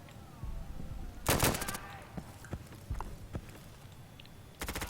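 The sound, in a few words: gunfire in a video game esports match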